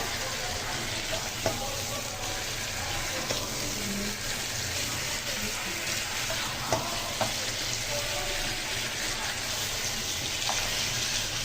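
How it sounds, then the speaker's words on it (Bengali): Broiler chicken sizzles in a pan with a continuous, even frying hiss, close and steady, broken by a few faint clicks of stirring. "ব্রয়লার মুরগি ভেজে দিচ্ছি।"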